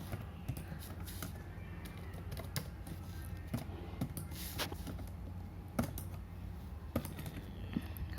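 Computer keyboard typing during SQL data entry, with a steady stream of close, crisp key clicks and a few louder keystrokes, heard alone without speech.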